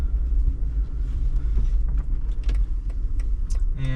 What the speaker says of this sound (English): we're gonna drive this G500 back to the parking garage